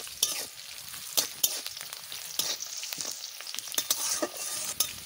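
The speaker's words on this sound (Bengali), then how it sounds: "দেখো পেঁয়াজ কেরম করে ভাজা করে নিচ্ছি।" Onions frying in oil, a close bright sizzle broken by frequent scraping stirs of a spatula through the pan, with no voices over it.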